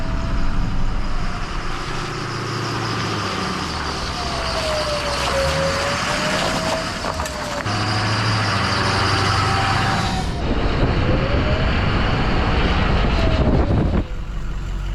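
A 6.0 Power Stroke diesel in a barn-find Ford F-350 idles steadily as it warms up, a loud, constant low rumble close by with a faint wavering whine riding on top.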